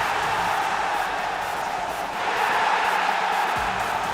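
A live arena crowd cheers and roars steadily at the Rocket League World Championship, a broad continuous wash of voices heard from within the venue.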